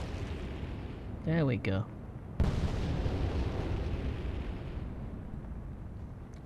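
Torpedo strikes in the Atlantic Fleet naval game, Battle of the Atlantic, with a sudden loud blast that rumbles on and fades away after someone speaks briefly.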